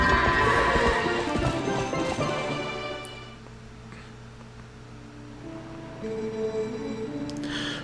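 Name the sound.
horse hooves galloping while riding, video game Zelda Twilight Princess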